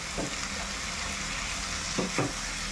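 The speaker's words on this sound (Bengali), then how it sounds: "মশলার সাথে মাংসটাকে ভালো করে কষিয়ে নিচ্ছি" Mutton is sautéed with spices in a pan on high heat, giving a soft, steady sizzle throughout with a few brief scraping strokes near the start and two more near the end.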